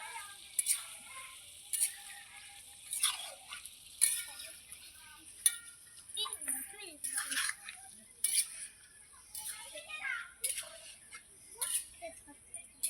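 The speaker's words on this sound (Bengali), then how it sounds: "বৌদি মাংসটা রান্না করছেন" Meat cooking in a pan for a homemade Bengali meal, with repeated spoon scrapes and clinks over a steady sizzling hiss, and people talking intermittently nearby.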